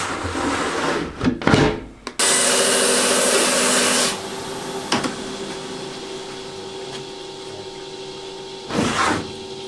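A rock saw grinds through a Condor agate nodule from Argentina, with a loud, steady cutting whine for about two seconds, preceded and followed by brief clunks and short bursts of machine noise.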